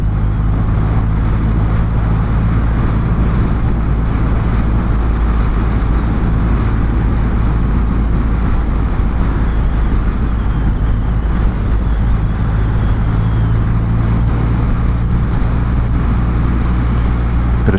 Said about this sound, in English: Bit of traffic on the roads because it's school pickup time.